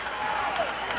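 Wrestling crowd at a 1980 women's match cheering a wrestler, a steady wash of distant voices and shouts, with a continuous hubbub and no distinct individual calls.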